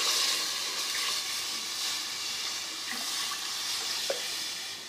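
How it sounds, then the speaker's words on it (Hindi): Water poured into a masala base in a cooking pot while making kadhi kofta: a steady, even rush of liquid filling the pot throughout, with faint sizzling and a small clink near the end, no talking. "अब इस मसाले में हम पानी शामिल करते हैं"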